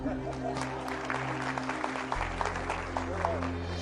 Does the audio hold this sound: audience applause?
yes